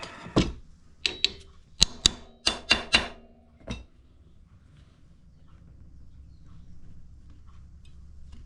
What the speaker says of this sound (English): we might have to chisel this thing out bit by bit